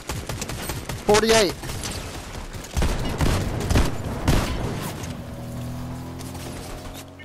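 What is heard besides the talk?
gunfire in Fortnite video game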